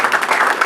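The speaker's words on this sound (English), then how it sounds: "A round of applause for this boy." Brief applause for a boy at a graduation gathering, a short burst of many hands clapping together, fairly close and steady for under a second.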